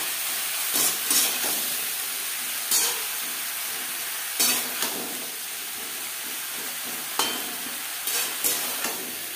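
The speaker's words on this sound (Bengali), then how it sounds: "কাঁচা লঙ্কা ও টমেটোর সাথে পেঁয়াজ কলি বেশ ভালো করে মিক্স করে দেবো।" Onion stalks, green chili and tomato are stirred in a frying pan, a steady loud sizzle broken by several sharp scraping strokes of the spatula at irregular intervals, with no talking.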